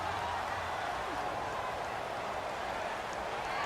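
Stadium crowd noise from the Madden NFL 18 video game makes a dense, steady roar that holds for the whole stretch. It runs at a constant level with no single standout sound.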